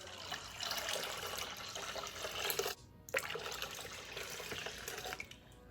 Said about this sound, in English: now we're going to add in